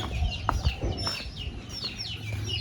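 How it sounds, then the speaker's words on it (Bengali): A brood of ducklings calling at a village home, thin high peeps repeating in quick overlapping bursts, close and fairly clear over a low background rumble. "এই যে দেখেন আঙ্গ বাড়িতে কতগুলা হাঁসের বাচ্চা"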